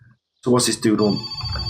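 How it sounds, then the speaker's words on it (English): A telephone rings inside the video game My Summer Car, set in 1995, with a steady electronic ring sounding after a short gap and continuing under a man's speech. "Oh, that's the phone."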